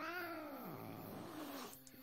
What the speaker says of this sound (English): Oh, it's the kitten I pissed off earlier.